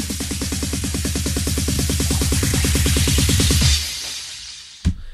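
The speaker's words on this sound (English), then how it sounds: "I use this uplifter all the time." An old school uplifter sample built from a driving 909 drum roller with crashes plays loud and dense, its rapid repeating hits rising steadily before cutting off, followed by a single sharp hit near the end.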